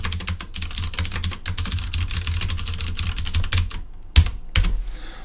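Rapid clattering keystrokes on a computer keyboard as code is typed, a dense run of clicks that pauses near the end before a couple of final key presses.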